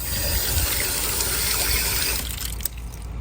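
Water gushes from a garden hose after its valve is turned, a steady, close rushing flow with a faint click near the end.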